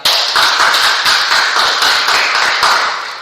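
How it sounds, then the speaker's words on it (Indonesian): A small group claps together in a brisk, even rhythm for a few seconds, loud and close, fading slightly at the end. "Tepuk tangan buat Ani."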